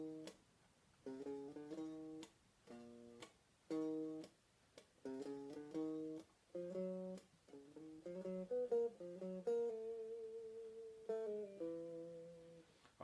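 A guitar plays a theme alone, with plucked notes in short spaced phrases at first, then a smoother run of connected notes with some held tones, moderately quiet and close.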